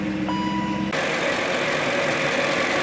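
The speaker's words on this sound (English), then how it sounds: "Now let's hear the engine." A BMW M62TU B44 V8 car engine idles with a steady, smooth rumble close by after a timing chain guide repair, following a short electronic beeping tone at the start.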